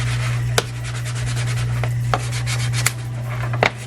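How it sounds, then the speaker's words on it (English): Sandpaper rubbed by hand along the inside edge of a kick panel speaker pod for a Ford Bronco, giving a steady close-up rasping scrape with a few sharp ticks over a constant low hum. "I'll take some sandpaper to this inside edge"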